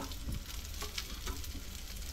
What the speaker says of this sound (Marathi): हे सगळ्या भाज्या थोडा वेळ भाजायच्या आहेत चांगलं